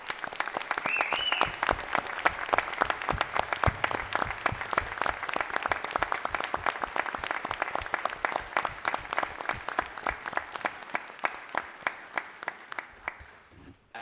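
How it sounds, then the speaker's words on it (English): Audience applause for middle school students standing at a board of education meeting, a long run of sharp, evenly spaced claps that stays fairly steady and thins out toward the end. "Can all the middle school students please stand so we can give you a round of applause?"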